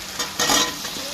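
Fried ingredients tipped into hot oil in a pan, setting off a sudden bright sizzle that swells briefly and then settles into a steady crackle, close and fairly loud with no voice.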